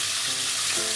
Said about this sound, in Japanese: じゃあ残りも焼いていきます